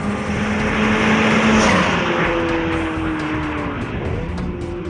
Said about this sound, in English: We're here behind the wheel of the Suzuki Swift Sport, and it has been turbocharged.